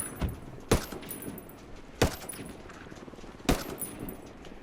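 MDR assault rifle fire in Ghost Recon Wildlands, with several sharp, separate gunshots a second or so apart over quiet in-game ambience.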